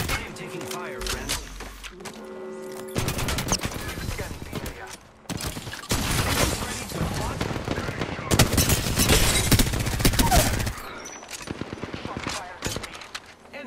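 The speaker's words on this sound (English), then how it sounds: "The enemies are shooting at me." Video game gunfire crackles in dense bursts and rapid volleys, fairly loud, with quieter gaps between and a voice talking over parts of it.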